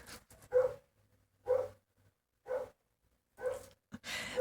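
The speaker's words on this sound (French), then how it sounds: "Confirmation du chien des voisins." A neighbours' dog barks four times at steady, roughly one-second intervals, moderately distant, with a short burst of noise at the end and no talking.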